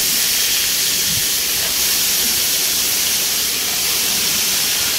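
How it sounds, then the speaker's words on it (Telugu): Eggplant pieces with turmeric fry in hot oil, giving a steady, dense hiss that holds even and unbroken throughout, with no voices. "పసుపు వేసుకొని ఫ్రై చేసుకొని వంకాయ ముక్కలు వేసుకున్నాం"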